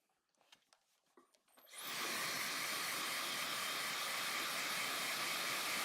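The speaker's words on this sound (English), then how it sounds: "and blow dryer." A blow dryer switches on partway through and runs steadily and loudly with a broad rushing hiss, drying paint on a canvas after some faint handling sounds at the start.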